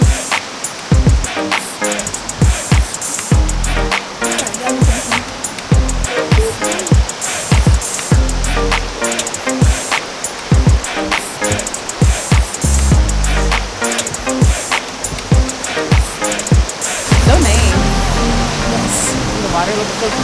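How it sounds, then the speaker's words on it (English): River water rushing steadily at Inglis Falls in Owen Sound, Ontario, a loud continuous wash with sharp clattering knocks and footsteps over it, and a person speaking at times. "now we're down and I hear water"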